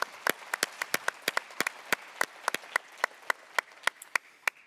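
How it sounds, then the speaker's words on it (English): Sparse, scattered clapping from a small group at a Northwestern press conference: a few dozen distinct, crisp hand claps in an uneven rhythm, fairly quiet and close. "you can clap for that, Chip."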